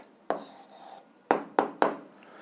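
Handwriting an algebra answer: four short, close scratchy strokes, one and then a quick run of three, with no talking.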